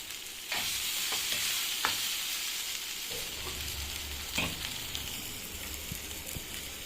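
Masala for egg curry frying in a pan: a continuous close sizzle with occasional sharp spoon scrapes and taps against the pan, fairly quiet and with no voices.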